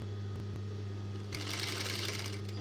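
A sewing machine stitches a baby shirt close by, a steady low mechanical hum that picks up into a busier whirring run partway through.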